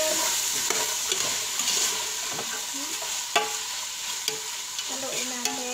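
A spoon stirs carrots into a pot of chicken macaroni soup, with a steady hiss of simmering under irregular scraping and clinking strokes, close and moderately loud, and no talking.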